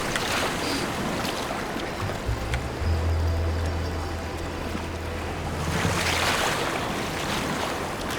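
Waves slosh and slap against a small rowing boat paddled in cold Patagonian waters, with a low humming drone rising in the middle and wind rushing past.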